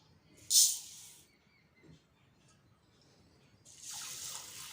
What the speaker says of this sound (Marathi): इथे मी पिवळी मुगाची डाळ घेतलेली आहे ही सुद्धा आपण अगोदर स्वच्छ पाण्याने धुवून घेऊया